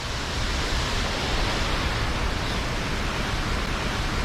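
Harvalem waterfall in Goa pours heavily, giving a steady, loud, broadband rush of falling water that runs unbroken from start to finish with no voices.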